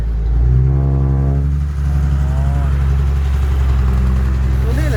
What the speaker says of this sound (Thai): เครื่องยนต์อีซูซู 6HK